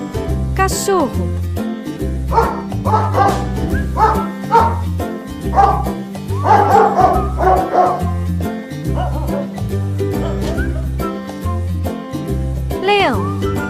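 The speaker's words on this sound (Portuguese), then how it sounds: "Cachorro." A dog barks and yips repeatedly in a series of lively barks over a bouncy, rhythmic music backing for a children's animal sounds lesson.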